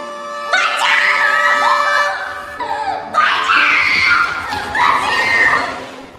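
A woman screams in despair, with long, loud, anguished cries in several drawn-out bursts and brief pauses between them, from a tense film scene in which she is unable to fight back.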